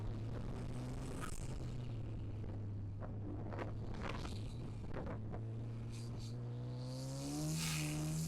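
Ariel Atom sports car engine pulling hard under acceleration, a steady loud droning note that climbs in pitch near the end as revs rise, with faint wind and cabin noise and no talking.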